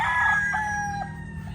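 Farm roosters, gamecock stags, crowing close by in a drawn-out call, with a second crow overlapping, on a drizzly farm.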